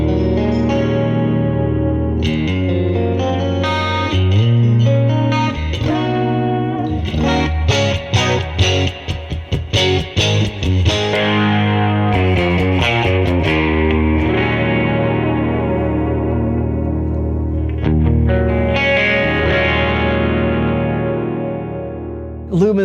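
Electric guitar through a PolyChrome DSP Lumos amp modeler with the MultiMod effect placed before the amp, playing chords and single-note runs with swirling chorus-like modulation, loud and continuous, with sustained notes fading at the end.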